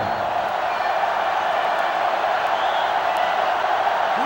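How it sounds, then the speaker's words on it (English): Sellout stadium crowd during a football broadcast, a steady, dense roar of many distant voices that holds evenly throughout without clear peaks. "This sellout crowd is really making a difference now as these guys can't even call the play"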